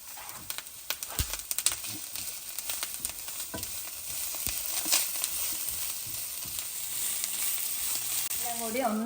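Shrimp masala with curry leaves and salt frying in a pan, crackling and sizzling steadily with a few sharp pops and stirring scrapes, close and moderately loud.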